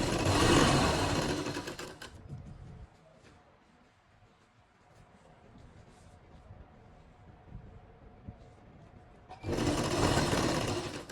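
A sewing machine stitches a shirt sleeve in two loud, fast bursts at the start and end, with a quieter stretch of faint handling and room noise between them.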